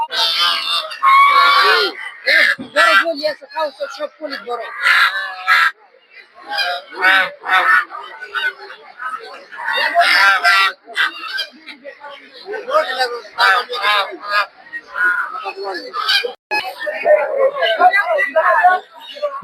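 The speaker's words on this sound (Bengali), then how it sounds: "এদিকে হচ্ছে চীনা হাঁস" Chinese geese honk repeatedly in loud, harsh bursts at a busy poultry market, mixed with people talking close by.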